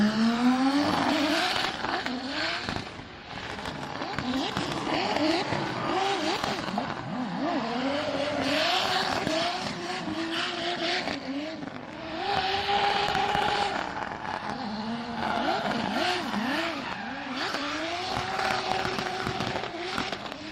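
Race cars roar past with engines rising and falling in repeated Doppler sweeps, tires squealing through corners, loud and continuous over a racing scene.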